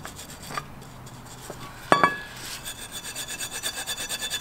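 A wire brush scrubs paint off a car brake caliper in close, scratchy strokes, starting with a few separate rasps and settling into a steady back-and-forth rhythm.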